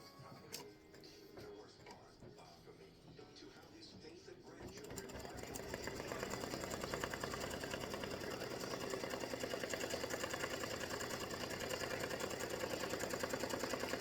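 An embroidery sewing machine with a 90/14 needle stitches a placement outline on a baseball tic-tac-toe piece, a fast, steady mechanical rattle that starts after a quieter opening and runs evenly to the end, with talk over it.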